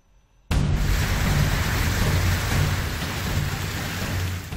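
Heavy rain pours down over a flooded city, a dense, loud, steady roar of downpour that starts abruptly after a near-silent moment.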